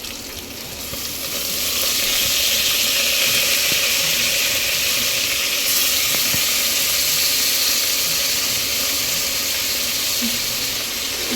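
Half a kilo of mutton for a Telangana mutton curry fries in hot oil in a pan, giving a loud, steady, close sizzle that holds unbroken for the whole stretch with no voices.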